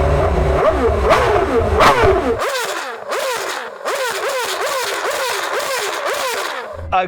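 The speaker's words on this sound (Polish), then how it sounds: "czy jest to tak imponujące jak obroty wolno ssącego V8 w Formule 1?" Formula 1 car with a naturally aspirated V8 revving hard, first a dense roar, then a rapid series of sharp rising and falling revs, loud and close, repeating about a dozen times.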